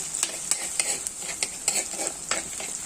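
Onions sizzle in a pan for a fish curry, a close, bright frying hiss punctuated by regular scraping stirs about every half second.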